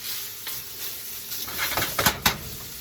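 Sausage frying in a pan while country gravy is made, giving a steady soft sizzle and stirring, then a few sharp metallic pan clanks close together near the end.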